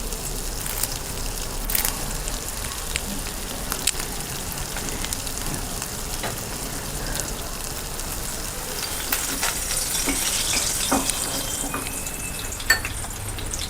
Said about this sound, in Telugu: చూడండి, మంచి ఎర్రగా వేగినాయి మంచిగా.